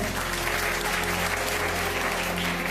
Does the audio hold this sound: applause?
yes